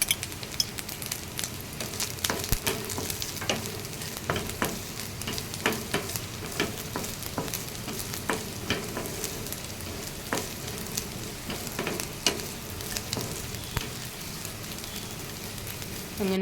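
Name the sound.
grated coconut frying with turmeric in an iron pan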